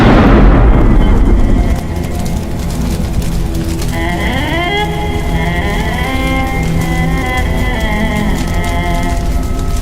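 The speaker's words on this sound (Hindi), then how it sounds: "लगता है आसपास कहीं शादी हो रही है। पटाखों की आवाज यहाँ तक आई है।" A loud burst opens, then a dense crackle of distant firecrackers for a wedding celebration carries on steadily, with a tonal whistling rising over it later.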